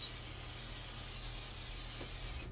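Spray glue hissing steadily from an aerosol can onto canvas, a continuous close, fairly quiet broadband spray with no pauses.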